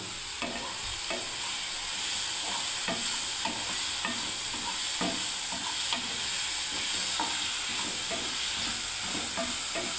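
Eggplant slices frying in a pan for a Bengali eggplant and poppy-seed dish: a steady oil sizzle and hiss with repeated scraping stirs of a spatula at an even pace, moderately close.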